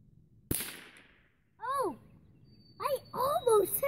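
A single sharp rifle shot at a steel target range, fired by a five-year-old, cracks close and loud and then fades, followed by people talking.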